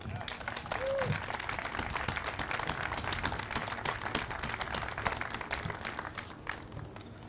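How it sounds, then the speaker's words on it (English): Steady applause from a crowd at a 2018 graduation ceremony in Spokane, dense overlapping claps that carry on for several seconds before thinning slightly at the end. "Please give yourselves a big round of applause."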